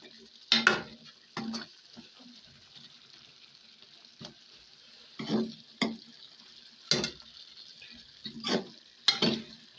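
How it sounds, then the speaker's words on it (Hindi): Oil and spices stirred and mixed in a pan: a series of scraping, sizzling strokes repeated irregularly about a dozen times over a faint steady frying hiss, fairly quiet and close. "और अभी मैं इसको मिक्स कर लेता हूँ।"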